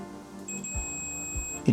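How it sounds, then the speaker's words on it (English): A multimeter on continuity test gives a steady electronic beep lasting about a second as its probes touch across the contacts of a Logitech G903 mouse button, quiet and close, with faint handling clicks around it. "If the multimeter beeps when we press the button, then it's a working button"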